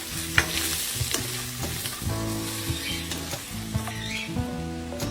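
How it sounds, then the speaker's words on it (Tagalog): Potatoes and carrots pan-frying in a little hot oil give a steady, close sizzle that carries on without a break, with occasional scrapes and stirs in the pan and no voices. "Magpainit na ng konting mantika at i-pan fry ang mga patatas at carrots."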